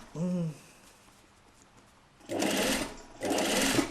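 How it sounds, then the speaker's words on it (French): A sewing machine stitches a corset-with-basque kit at a one-centimetre seam in two loud, steady bursts of running motor and needle, after a brief voice at the start and a quiet pause between. "On coud à 1 centimètre."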